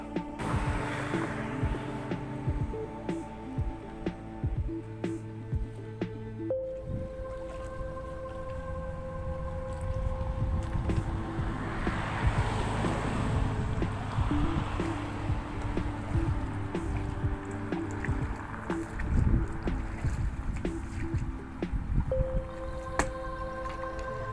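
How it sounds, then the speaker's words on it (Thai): Paddling a homemade boat built from a plastic mortar-mixing tub and PVC pipe through floodwater, with continuous watery sloshing and splashing strokes up close alongside faint background hum and tones, no talk. "ไปพายเรือกันกับสถานการณ์น้ำจริงๆกันเลยนะครับ"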